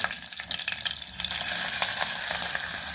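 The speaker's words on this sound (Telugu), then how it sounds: "కొంచెం కలర్ వచ్చేంత వరకు వేయించాలి" Onion pieces sizzle in hot peanut oil with mustard seeds, cumin and green chilies, a bright, steady frying hiss that swells louder after a stir, close up with no talking.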